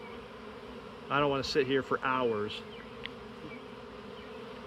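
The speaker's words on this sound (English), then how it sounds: "There's bees out there flying around" A swarm of honeybees buzzes around a hive box after being collected from a branch, a steady, close drone running throughout while someone speaks briefly in the middle.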